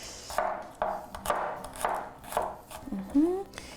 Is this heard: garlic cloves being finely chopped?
yes